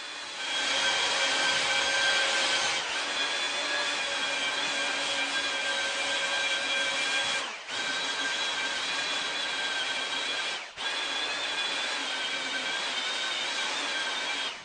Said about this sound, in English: I since switched to a brand new 50 grit sanding belt